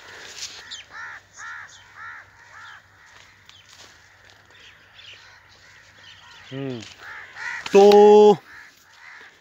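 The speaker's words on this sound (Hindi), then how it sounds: "कौवे, बहुत से कौवे नज़र आ रहे हैं।" Many crows in a bamboo forest in Pakistan, cawing in repeated bursts at a moderate distance, with someone speaking briefly among the calls and one loud, close caw near the end.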